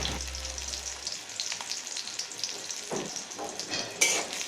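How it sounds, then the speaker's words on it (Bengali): Chopped onion, garlic and sliced green chilies hitting hot oil in a pan, crackling and sizzling steadily with a few stirring clatters, up close and without voices. "ওই একই তেলের মধ্যে দিয়ে দিচ্ছি একে একে পেঁয়াজ কুচি, রসুন এবং ফালি করে রাখা কাঁচামরিচ"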